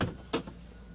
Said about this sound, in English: I'll pop this door open.